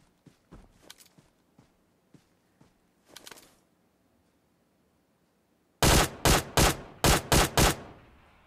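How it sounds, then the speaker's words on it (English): Gunfire in an online solo-mode shooter game: a burst of six or seven loud, sharp shots close together near the end, after quieter footsteps and faint scattered distant pops. "I swear I feel like someone might have just shot at me."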